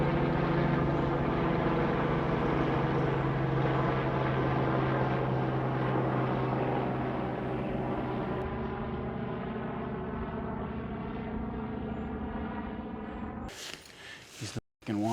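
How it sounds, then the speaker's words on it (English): Helicopters flying overhead at a stealth campsite give a loud, steady rotor drone with a rhythmic thrum that slowly fades, ending with a few sharp handling noises close by. "Helicopters are looking for me."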